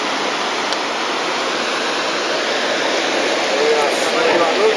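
Tsunami water surging into Matsukawaura, a broad, steady roar of rushing water filling the scene at constant loudness, swelling slightly toward the end.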